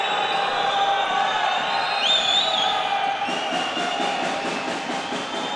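Arena crowd at a Donar Groningen versus BK Opava basketball game roars steadily in a dense, loud wash of voices, reacting with anger to a no-foul call, with whistling and shouting rising partway through.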